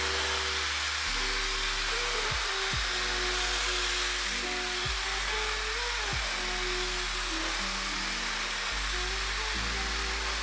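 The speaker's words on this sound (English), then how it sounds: "I'm gonna start the process of getting my hair dry" A hair dryer blows continuously for a blowout, a loud steady roaring hiss close by with motor pitch shifts as the dryer is moved and adjusted, no talking over it.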